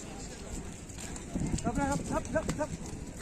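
A bull races at a bullock cart race on a rain-soaked field, its hooves drumming in quick rhythm beneath loud shouting voices from the crowd.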